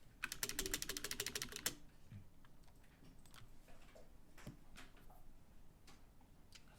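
A quick burst of rapid, light keystrokes on a computer keyboard while card details are entered, followed by a few scattered taps over quiet room noise.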